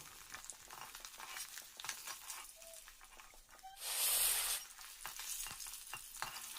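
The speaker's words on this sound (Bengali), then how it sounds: "এখন মাছগুলো ভাজা হয়ে এসছে" Small local chang or lata fish frying in oil in a pan, a steady sizzling crackle with a louder burst of hiss midway, no talk.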